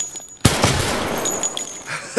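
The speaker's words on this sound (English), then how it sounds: "Ooh, I'm getting shot from outside." Rapid gunfire in a video game, loud and close, with a sharp burst followed by sustained crackling shots over about two seconds and a final pop, and no talk.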